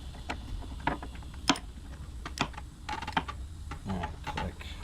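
Irregular dry clicks and ticks from the track of a Lymow robotic lawn mower, a string of sharp, close taps of varying loudness over a low background hum, with no voices.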